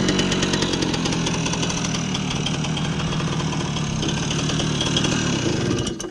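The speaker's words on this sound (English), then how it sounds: "But the engine's nice and quiet now." A Bridgestone 60 Sport motorcycle engine running after a bearing and seal rebuild, a close, loud, steady idling buzz with a rapid even pulse that holds throughout and dips slightly at the very end.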